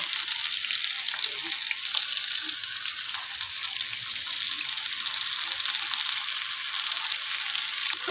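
Steady, loud sizzling of chicken frying with spice paste in a hot pan, continuous crackle without any talking.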